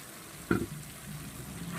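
A paste of ground mustard, coriander, cumin and Kashmiri chilli powder frying in a pan, a quiet continuous sizzle with one sharp splatter burst as it hits the hot oil.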